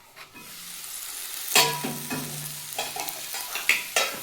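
Potatoes sizzling and frying in a pan, with a utensil scraping and stirring in repeated strokes; close and moderately loud, no talking.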